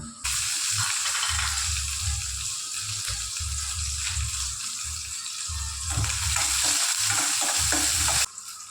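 Mustard seeds and onions fry in a hot pan with a steady, loud sizzle, broken by low scraping and stirring knocks from start to finish. No one speaks.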